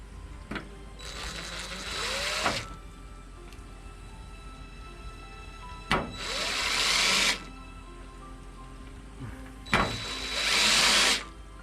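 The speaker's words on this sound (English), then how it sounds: "drill the holes" Three bursts of a power drill boring holes for a pool enclosure screen door handle, each lasting about a second and a half, separated by quieter pauses with small clicks.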